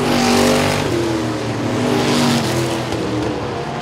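Race cars roaring down the back straightaway at Sabine Speedway, loud engines accelerating and revving close by as the pack passes, with a sustained dense roar.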